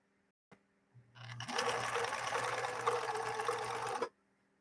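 A 1 amp 3010 sewing machine, a vintage Swedish model, stitches through eight layers of fabric, giving a loud, steady mechanical whir for about three seconds after a click and a brief start-up, then stopping abruptly.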